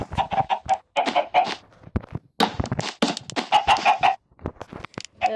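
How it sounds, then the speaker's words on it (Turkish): Chickens cluck repeatedly in quick, choppy bursts in the video game Minecraft, several birds close by on a chicken farm with brief pauses between clusters of calls. "10 tane tavuk var burada"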